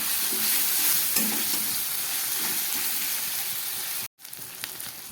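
Chopped tomato hitting a pan of garlic, onion and chili already frying in oil, giving a steady loud sizzle with stirring scrapes, close up, then a brief cut and the sizzle resumes, with no talking.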